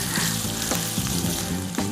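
Bacon fries in hot oil with a steady, crackling sizzle and small pops throughout, close and unbroken, while cheese potato pancakes are being prepared.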